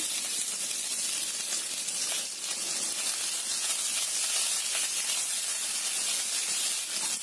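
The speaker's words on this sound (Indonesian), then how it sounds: "Kita tumis dulu bawang bombaynya." Continuous loud sizzling and hissing of onions sautéing in hot oil, steady and close throughout with no voices.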